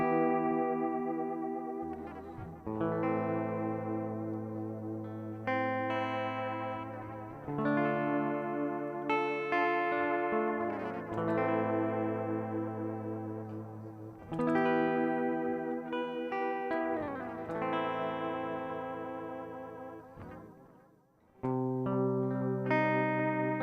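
An electric guitar played direct through a Line 6 Echo Park delay pedal: repeated chords and phrases ring out with echoing repeats and a washy, effected sustain, loud and close with no talking.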